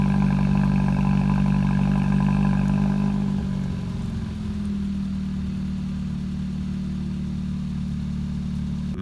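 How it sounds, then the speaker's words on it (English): Sustained engine note from a 2018 Hyundai Elantra Sport, a steady low exhaust drone that eases slightly partway through, close and loud with no talking. "Hyundai has never really bothered about any of the car's exhaust note until the Elantra Sport"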